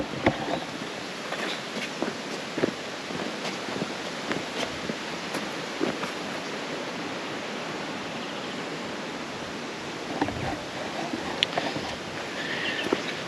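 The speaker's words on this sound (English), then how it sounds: "The wind really picked up last night." Strong wind blows across a campsite in the Flinders Ranges as a broad, continuous rushing roar with gusty surges and scattered rattles or flapping. No voices are heard.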